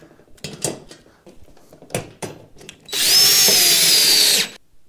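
A cordless drill standing in for an impact driver runs a screw for a TV wall mount in one loud, high whirring burst of about a second and a half, preceded by clattering handling of parts and hardware.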